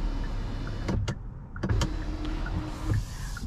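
Motorized shade on the fixed panoramic sunroof of a 2023 Genesis GV60 whirring inside the cabin, a steady low motor hum with a few short clicks and thumps, close and moderately loud.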